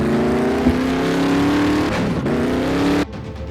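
A red Ford Mustang GT 500 accelerates hard, its loud engine note climbing steadily in pitch as it revs up, then cutting off abruptly near the end.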